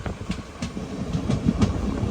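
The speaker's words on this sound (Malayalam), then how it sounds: "തിരുപ്പറൻകുണ്ട്രം റെയിൽവേ സ്റ്റേഷനിലേക്ക് ഇതാ നമ്മുടെ ട്രെയിൻ എത്തിക്കൊണ്ടിരിക്കുകയാണ്" An express train from Madurai rumbles into Thiruparankundram railway station, a close, continuous rolling roar with faint clattering wheel beats and no voices.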